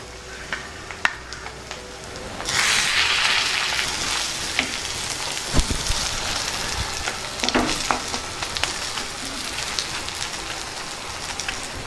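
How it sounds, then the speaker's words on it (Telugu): Fried fish pieces stirred into a pan of sizzling fish-egg fry, a steady close oil crackle that swells loudly after a couple of seconds, with scattered scraping stirs and clicks, no talking. "ఇప్పుడు ఈ ఫ్రై చేసి పెట్టుకున్న చేపని దీనిలో వేసుకొని కలుపుకుందాం"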